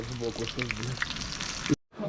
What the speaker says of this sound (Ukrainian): Вже он картопля смажиться.